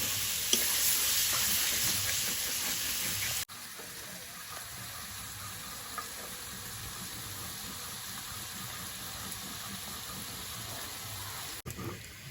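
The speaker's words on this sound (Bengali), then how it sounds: "ভালোভাবে চিকেনটা কষিয়ে নেব।" Chicken fries in a spice masala in a pan, giving a steady hiss and sizzle while it is stirred, with a louder burst at the start and then an even, continuous frying sound.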